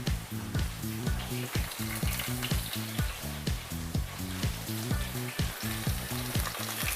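Onions frying in oil in a pan during mushroom soup prep with fennel: steady close sizzle with a regular rhythmic clatter of stirring or tossing throughout.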